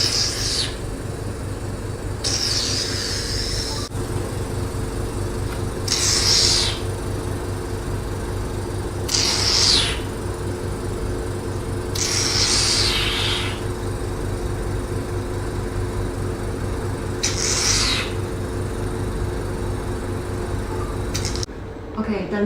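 A facial vacuum blackhead remover running: several bursts of high hissing suction, each lasting a second or two, repeat at fairly regular intervals over a steady low machine hum.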